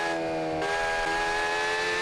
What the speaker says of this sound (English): I've put in a naturally aspirated V10 into it